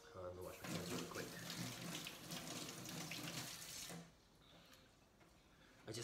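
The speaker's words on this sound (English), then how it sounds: "I'm gonna wash my hands really quick." Water gushes loudly from a kitchen tap during handwashing for about four seconds, then drops to a quieter trickle, with someone talking over it.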